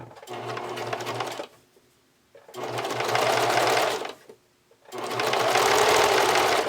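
A sewing machine runs a zigzag stitch to attach elastic to fabric, heard as three steady mechanical runs with brief pauses between them. The machine is close and loud, with no voices.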